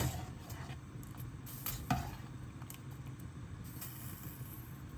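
Jicama cubes for a mock pomegranate dessert, the crunchy red-ruby sweet, stirred in a pot of liquid on the stove: a soft sizzle and murmur with a few scraping strokes and one louder knock, close by and without speech.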